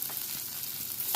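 Onion, ginger and garlic fry in a pan with a faint, steady sizzle. A couple of short stirring scrapes break in, and no one speaks.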